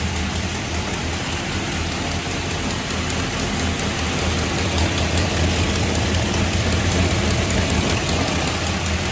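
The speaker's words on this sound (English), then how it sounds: "I'm just going to take a video of the idle." A 383 small-block V8 with a single 88mm turbo and hand-ported AFR 220 heads idles on a dyno with leaking headers, a loud, unbroken rumble buried under a dense wash of broadband noise.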